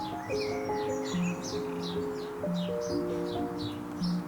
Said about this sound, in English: I can eat outside and enjoy the sounds of the birds chirping.